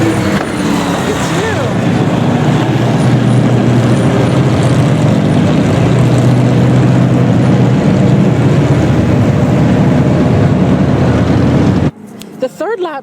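A NASCAR stock car at the Dover track gives off a loud, steady engine roar that holds under a voice speaking, then cuts off abruptly near the end.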